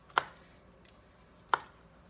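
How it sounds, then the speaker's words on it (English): A kitchen knife chops vegetables into quarters on a cutting board for roasting with potatoes: two crisp, separate cuts about a second and a half apart, close and fairly quiet, with no talking. "I'm just going to cut these like into quarters about, because they're pretty good size."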